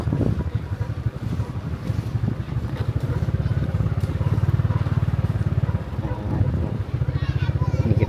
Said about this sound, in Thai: นี่จะเป็นรถไถเนาะทุกคนเนาะ